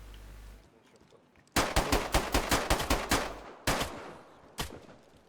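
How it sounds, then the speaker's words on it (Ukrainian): Rapid bursts of automatic gunfire in DayZ crack out close by, a long volley followed by a few separate shots after brief pauses. "Стрільба, зліва."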